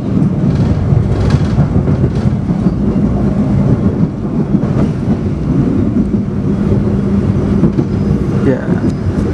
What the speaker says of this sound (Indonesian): Yes, kita akan menyilang Argo Dwi Pangga di stasiun Linggapura.